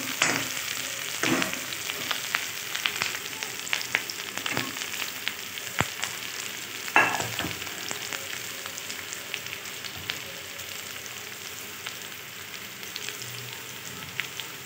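Spring onion greens and soybean curry cook in a pan with a steady, soft sizzle and occasional stirring scrapes and clinks, most active in the first seven seconds, with no talk.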